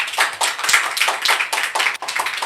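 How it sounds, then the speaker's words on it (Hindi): Audience clapping at a church meeting, a dense run of hand claps, fairly loud and steady for a couple of seconds, with rhythmic pulses and no talk over it. "अब बजाइए ताली"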